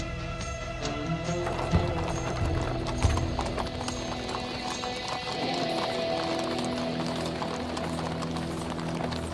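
Horse hooves clip-clop steadily on hard ground in a scene from the Ottoman palace drama Magnificent Century, a dense rhythmic stream of hoofbeats with occasional whinnies over a continuous background bed, no talking.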